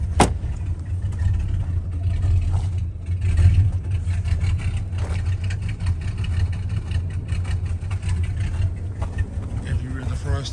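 A 1979 Chrysler New Yorker 5th Ave engine idles with a low, steady rumble close by, running continuously beneath someone talking.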